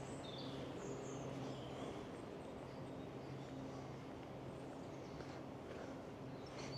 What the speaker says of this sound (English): Hearing birds and everything